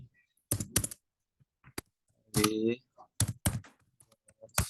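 Typing on a computer keyboard with a search entered and the enter key struck, bursts of close, crisp key clicks broken by pauses, with a person talking in between.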